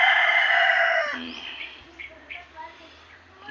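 A young Japanese-breed rooster crows loudly and close by in a backyard, one long call that fades into softer clucks and faint background sounds.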